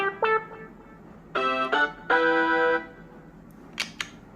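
Old camera model notification sound on a Samsung Galaxy M33 5G phone: a few short, bright electronic tones and then a longer sustained chime, clean and alone, with a faint click at the end.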